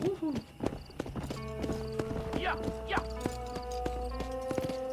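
Horse hooves clip-clopping in the Western video game Red Dead Redemption, a steady series of close hoof clops with a horse whinny and brief talk over game music.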